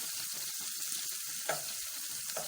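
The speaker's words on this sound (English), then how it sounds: "I love to get the onions fried" Onions frying in a pan for an eggplant stew, a quiet, steady sizzle and crackle with occasional small pops, heard close and alone.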